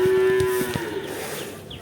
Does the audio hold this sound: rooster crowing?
no